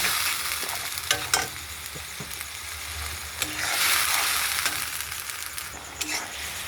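Tomato and ground spice paste fries in a pan, a steady close sizzle broken by several sharp scrapes and knocks of a stirring spoon.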